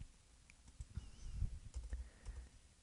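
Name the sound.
typing on a computer keyboard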